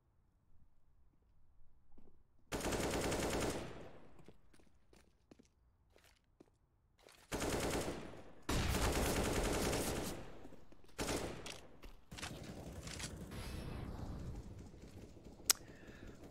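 Bursts of rapid Counter-Strike gunfire on the Overpass map come in loud volleys separated by quieter gaps, with scattered single shots and clicks between them.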